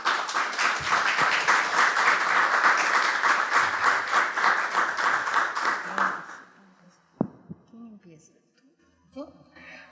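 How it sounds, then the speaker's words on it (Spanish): Audience applause at a literary talk welcoming two women writers, loud dense clapping for about six seconds, then fading out into a quiet room with a thump and scattered small sounds. "Las recibimos con fuertes palmas."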